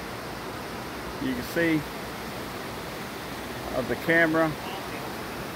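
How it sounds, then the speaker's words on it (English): Waterfall in a canyon at Cloudland Canyon State Park, its broad steady rush of water filling the scene at a constant level while a person talks briefly over it twice. "there's another waterfall right in the middle, right there."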